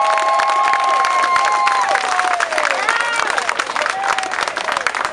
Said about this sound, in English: How about a big hand of applause for every nurse, every staff.